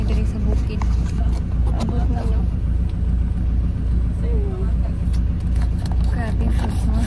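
Road traffic on a rural road, a steady close rumble of car engines passing without a break, loud and continuous, with faint voices underneath.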